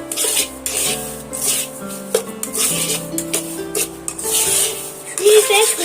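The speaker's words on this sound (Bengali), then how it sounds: "আবারও আমি সুজির সঙ্গে এইভাবে নাড়তে চাড়তে থাকবো" A spoon stirs and scrapes semolina with cashews and raisins around a pan, a continuous rubbing and scraping sound, close and fairly loud, with some faint tonal background beneath.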